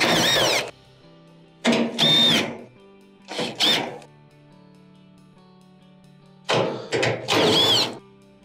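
A power driver backs screws out of a Maytag dryer's blower housing in several sharp, whining bursts, some doubled, with quiet pauses between them, all close and loud.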